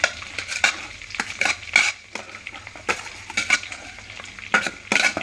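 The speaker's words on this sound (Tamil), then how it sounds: "சூடாயிடுச்சு அதாவது பொரிஞ்சிருச்சு கொஞ்சம் வெங்காயம் போட்டுக்கலாம்" Onion goes into hot oil for a chicken dish, with a low crackling sizzle under repeated sharp metal clinks of a ladle against the pan, close by.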